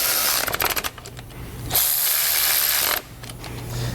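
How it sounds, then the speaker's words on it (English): Ratchet with a 9/16 socket tightening flange bolts on a helper spring bracket for a 2018 Jayco motorhome, giving close, rapid clicking bursts split by a longer steady whirring stretch. "We'll grab a 9/16 socket and we'll tighten up our 2 bolts."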